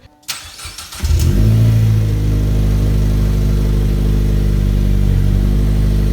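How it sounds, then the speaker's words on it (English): A Chevy Sonic RS 1.4 Turbo with the exhaust removed past the catalytic converter starts up with a brief crank, then settles into a steady, deep, rumbling idle, close and loud, with no talk. "It actually idles fairly quiet considering there's no exhaust past the cat."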